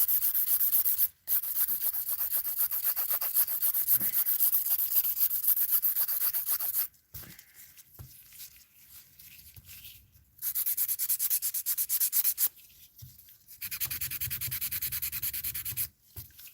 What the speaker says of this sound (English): So don't put too much pressure when you're filing.